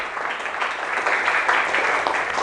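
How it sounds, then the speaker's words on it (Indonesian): Schoolchildren in a classroom at an Islamic primary school in Pekalongan applaud a student group, a steady, dense patter of many small hands that holds at an even level for the whole stretch. "Tepuk tangan untuk kelompok 2."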